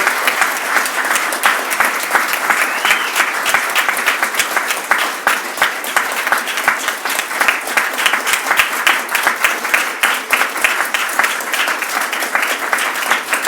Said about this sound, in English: Now, you have to stop clapping